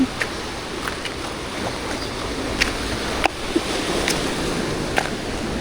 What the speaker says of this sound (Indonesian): Wow, ombaknya gede banget.